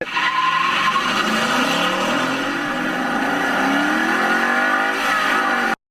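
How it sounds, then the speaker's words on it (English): A loud 5-liter V8 engine of a 2015 Ford Mustang GT revs and roars continuously, its pitch sweeping up and down through gear changes, heard alone. "the ringtone that's out there is from our Mustang GT with our 5-liter V8"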